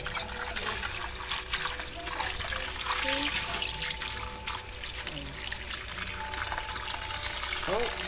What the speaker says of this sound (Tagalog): lagyan natin ng tubig para nakababad lahat ng ating mga